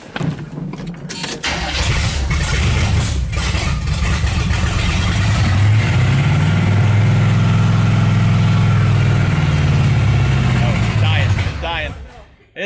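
An engine cranks, catches and runs with a rising, surging roar, then sputters and dies away near the end; close and loud, with voices talking over it.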